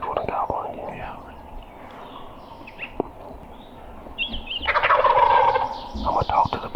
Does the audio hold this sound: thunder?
no